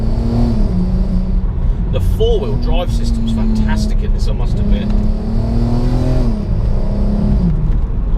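A VW Mk5 Golf R32 with four-wheel drive accelerates along a dry road, its engine note climbing and droning loudly and close, with someone talking over it throughout.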